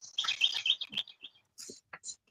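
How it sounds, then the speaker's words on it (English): Birds chirp outdoors near woods in a rapid cluster of high tweets, then a few scattered calls after a short pause, fairly faint and alone. "you can hear the birds chirping from that far off."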